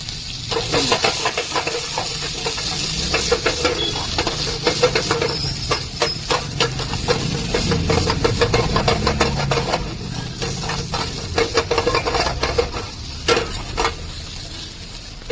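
Cabbage, onion, ginger and garlic frying in hot oil for chicken chilli give a steady, loud hiss that runs the whole time, with scattered crackles and spatters on top and no speech.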